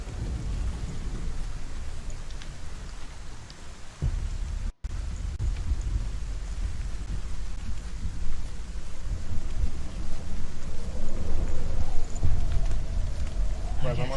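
Steady rain with rumbling thunder from the Hellblade: Senua's Sacrifice game, a waterfall nearby, filling the background continuously with low rolls swelling toward the end while someone talks over it.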